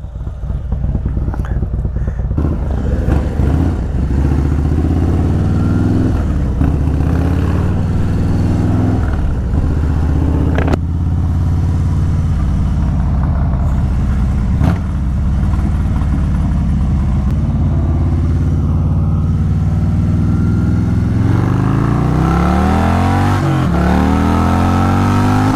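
Harley-Davidson Stage 4 performance bagger motorcycle engine warming up, a loud, deep, throbbing idle held close by, with occasional revs swelling and falling throughout.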